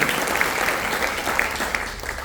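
Congregation clapping in a church service, a sustained wash of many hands at moderate level with a few sharper claps standing out.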